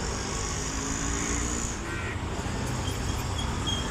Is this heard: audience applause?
no